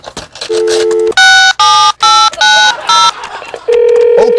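A quick series of loud telephone keypad tones, each a short steady beep, as a number is dialed.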